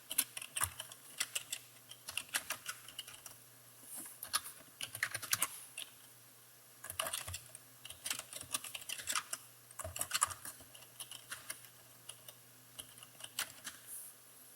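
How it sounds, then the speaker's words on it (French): Keystrokes on a computer keyboard come in quick irregular bursts with short pauses between runs, close and fairly quiet over a low steady hum, with no voices. "Ensuite, je tape"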